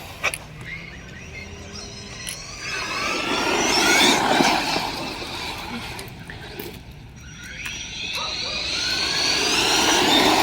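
An electric RC car whines under throttle with rising and falling motor pitch, close and fairly loud, swelling in the middle and again near the end, with no talk over it.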